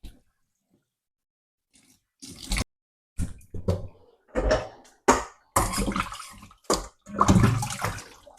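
Titus fish is washed with water in a kitchen bowl, with intermittent splashes, sloshes and drips in short bursts after a brief quiet start, close and moderately loud.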